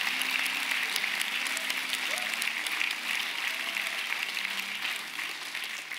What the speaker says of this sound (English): So you're clapping, you like it